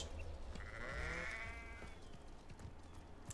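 A cow in the game Hogwarts Legacy gives one drawn-out, wavering moo, fairly faint, set over soft background noise and a few light thuds.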